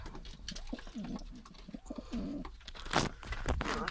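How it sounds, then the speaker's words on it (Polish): A pigeon coos close by in an aviary, low throaty calls broken by brief wing flutters and rustling. "Tutaj też przyleciał kolejny obcy gołąb."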